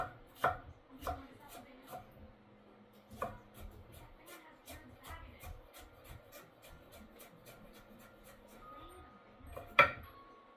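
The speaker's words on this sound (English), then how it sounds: "I'm going to cut those up, and they're diced consistently all at once." A knife dices vegetables for chili on a cutting board, a brisk run of sharp, irregular chops close up, with a louder thump near the end.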